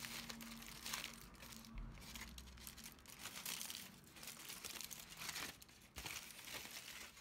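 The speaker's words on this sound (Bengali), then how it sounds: "ঠিক এভাবে আমরা এটাকে কিচেনের ফয়েল পেপার দিয়ে পেঁচিয়ে দেব" A phone being wrapped in kitchen aluminium foil, with continuous crinkling and crumpling of the thin sheet, close and fairly quiet, the rustle rising and falling in bursts.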